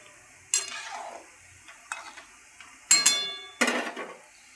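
Gulab jamun frying over a low gas flame, a faint sizzle beneath a few sharp clinks and scrapes of a utensil stirring against the pan, no speech.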